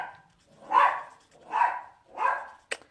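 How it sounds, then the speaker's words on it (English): A pet dog named Leo gives three loud, evenly spaced barks, close by, followed by a short sharp yip at the end. "I don't know what he's barking at."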